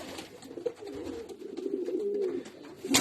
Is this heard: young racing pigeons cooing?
yes